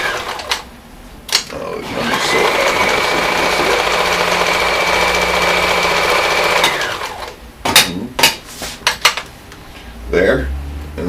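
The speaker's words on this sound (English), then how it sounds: "This machine runs beautiful. You can just hear and feel a machine when you're sewing." A sewing machine running steadily while sewing a cover stitch, a continuous whirring hum lasting several seconds, followed by a few clicks and knocks as it stops.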